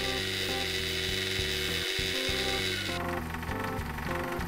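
A mini lathe runs steadily, facing off the back end of a metal part, with a continuous loud motor drone and a tonal cutting whine that shifts partway through, no talk.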